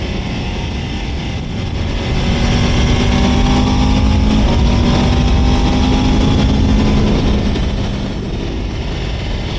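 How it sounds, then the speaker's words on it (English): Stock-exhaust 2026 Aprilia RSV4 Factory, a 1099cc liquid-cooled 65-degree V4 superbike, cruising on a demo ride with a steady, loud engine drone and faint rising pitch lines under wind noise, no talk. "RSV4 Factory demo ride, and it's completely stock, including the exhaust. It doesn't sound too bad"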